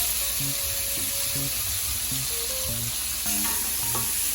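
Meat and tomato frying in a home kitchen pan, a steady close sizzle and hiss that carries on without a break, with faint clinks and stirring underneath and no talking.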